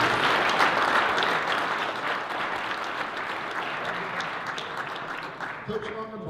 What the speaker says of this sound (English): So how about a nice round of applause for our students.